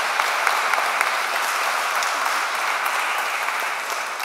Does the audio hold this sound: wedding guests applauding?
yes